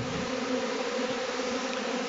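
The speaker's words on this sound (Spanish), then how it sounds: "que se alborotan por la alimentación." A mass of honey bees crowds around a feeding station, making a steady, loud, close hum with a clear pitched buzz that holds evenly from start to finish, with no voices.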